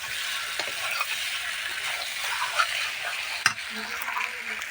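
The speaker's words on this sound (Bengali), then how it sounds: "এক মিনিটের মতন একটু নেড়ে চেড়ে নেবো" Mutton sizzles steadily as it is stirred and fried in a kadai, with a close, continuous crackle and occasional scrapes and knocks of the spoon against the pan.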